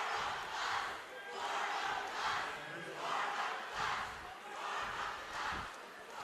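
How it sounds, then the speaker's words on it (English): Gym crowd at a 2017 Vermont Division 3 basketball final between Hazen and Williamstown chants a cheer in steady rhythmic swells, a loud mass of voices rising and falling about once a second. "I never understood that cheer here because both teams come on the bus."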